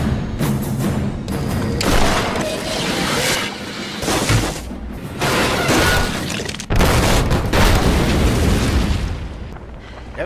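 Rapid gunfire bursts and heavy booming impacts batter a car in a chaotic movie action scene, loud and dense throughout with sharp jolts near the middle and a fresh blast around two-thirds in.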